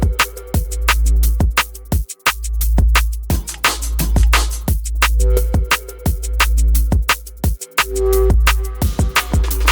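Minimal drum and bass track: punchy, sparse kicks and snares over a deep sub bass, with two brief dropouts where everything cuts out before the beat returns, no voices.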